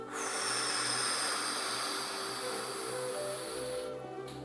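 A long, slow exhale during an abdominal breathing exercise, heard as a soft, steady breathy hiss close to the microphone that fades out near the end.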